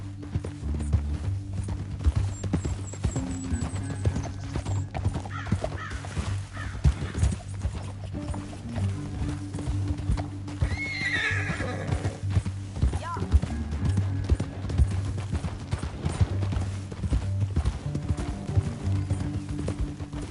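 Horse hooves clip-clop steadily through a PS4 game scene, with occasional whinnies, mixed under a constant low musical drone and bursts of in-game dialogue.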